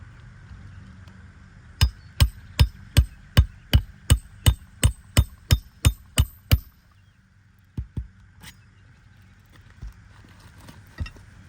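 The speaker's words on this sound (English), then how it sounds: "he has to drive it again with the hammer" A steady run of about thirteen sharp hammer blows driving nails into roof shingles, evenly paced and close, then a pause and a few scattered strikes.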